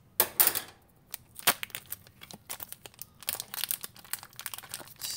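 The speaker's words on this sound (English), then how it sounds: "So you get your steak, and you cut it open in a way that actually" Crinkly plastic packaging of a frozen steak is cut and torn open up close, with a quick run of crisp rustles, snips and crunches coming in uneven bursts and short pauses in between.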